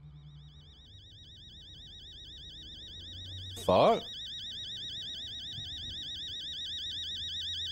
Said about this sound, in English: Is that my alarm clock?